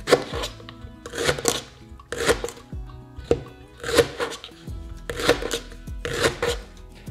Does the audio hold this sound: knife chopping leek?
yes